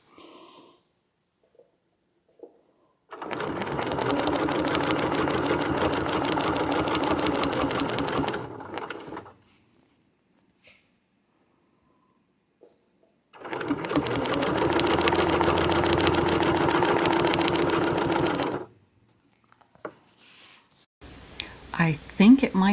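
Sewing machine stitching in two long continuous runs, each several seconds, separated by quiet pauses with small clicks; close and steady, with brief speech at the end.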